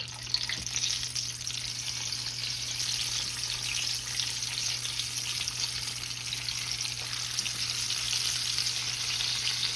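Flaky fried pies cook in hot oil, giving a steady, loud, close sizzle and crackle that runs unbroken throughout with no voices.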